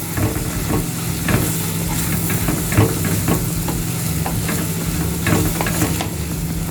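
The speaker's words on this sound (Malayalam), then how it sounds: "തേങ്ങ ചതച്ചതും കൂടെ ഇതിലേക്ക് ചേർത്ത് കൊടുക്കാം. നന്നായി ഇളക്കിയെടുക്കാം." Crushed coconut fries in a pan for sardine peera, a constant close sizzle with the spoon scraping and clinking against the pan at irregular intervals.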